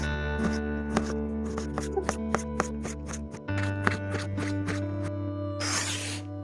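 A knife finely chopping a tomato on a board gives a rapid, even series of sharp taps over a steady tonal background, ending in a brief burst of hiss.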